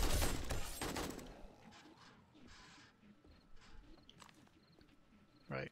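A junk turret shooting on horde night in 7 Days to Die Alpha 19: a loud, quick volley of shots at the start, then faint, sparse bangs and clatter, with one sharp shot near the end.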